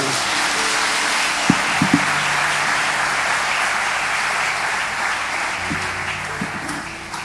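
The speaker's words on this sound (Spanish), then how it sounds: "Los que crean, denle un aplauso al Señor." A church congregation applauds loudly and continuously, a thick wash of clapping close by, with brief voices and exclamations rising over it.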